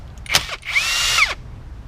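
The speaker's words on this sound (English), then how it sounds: "we will start here removing this T30 screw right here so we can remove the rotor" On a first-generation Chevy Cruze, a power drill backs out a T30 screw from a front brake rotor. A click comes first, then a short, close whine that rises and falls before stopping.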